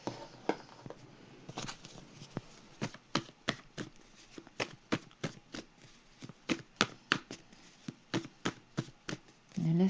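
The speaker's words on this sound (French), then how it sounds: "C'est la carte de la nuit." Tarot cards being shuffled by hand, a long series of crisp, evenly spaced snaps and riffles, fairly quiet and close, with no talking.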